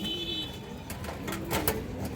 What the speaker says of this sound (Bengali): এই যে দেখেন খুবই সুন্দর তিনটা মাদি কবুতর আছে